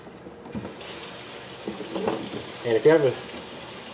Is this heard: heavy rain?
no